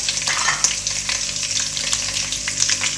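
Garlic and chicken fry in a pan for a chicken vegetable pasta, with a loud, steady sizzle and crackle that runs throughout, along with a few small stirring clinks.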